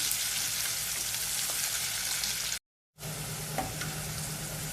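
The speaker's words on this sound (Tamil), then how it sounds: "ஆனியன் நல்லா ஃப்ரை ஆகட்டும்." Onions fry and are stirred in a hot pan, a dense close sizzle with scraping stir sounds that drops out briefly to silence before resuming.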